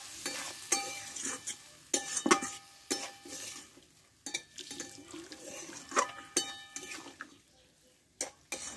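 Vegetables and stalks simmering in a pan for a Bengali stem-vegetable curry as water is poured in, with soft sizzling, scraping stirs and light clinks of a utensil, close but quiet and without speech.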